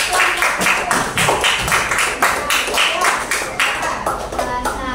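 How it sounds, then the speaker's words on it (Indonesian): Students in a classroom clapping, a steady patter of many hands at close range, with voices mixed in underneath. "tepuk tangan yuk buat"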